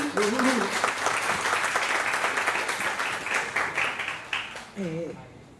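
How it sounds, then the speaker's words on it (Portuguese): A crowd applauds steadily throughout, dense clapping with a voice calling out briefly over it at the start and near the end. "palmas pra gente"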